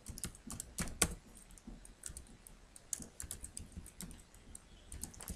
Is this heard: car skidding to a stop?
no